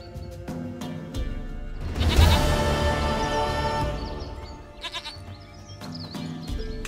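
A goat in The Witcher 3 bleats in a loud, wavering cry near the middle, set against game ambience and scattered clicks, with no talking.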